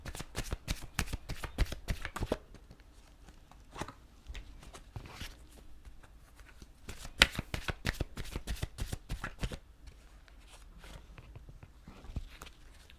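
Romance Angel Oracle cards are shuffled by hand in repeated quick bursts of soft, close card-riffling and slapping, with short quiet pauses between bursts and no talking.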